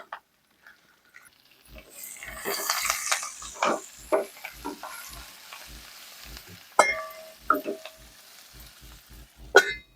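Garam masala and split green chillies fry in a pan while being mixed, bursts of sizzling hiss and spoon-stirring scrapes rising and falling against quiet gaps, close and fairly loud.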